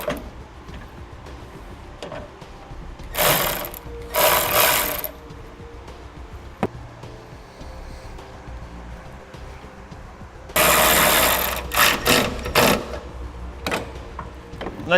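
A ratchet turns a 10mm socket to remove a ground bolt on a 2007 GMC Sierra. Short bursts of rapid clicking come in three spells, the last and longest near the end, over a quiet background.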